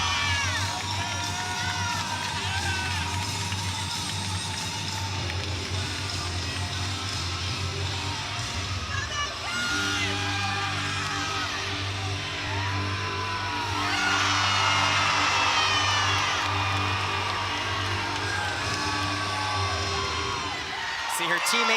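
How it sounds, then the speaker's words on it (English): Crowd of gymnastics teammates whooping, yelling and cheering at a college meet between Clemson and Penn State, a sustained lively roar of mixed voices with a louder swell of shouts toward the end. "See her teammates cheering her on"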